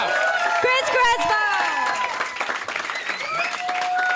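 A comedy club audience applauds a comedian, bursts of clapping and whoops loud at first then tapering, with a host's amplified voice speaking over the clapping throughout.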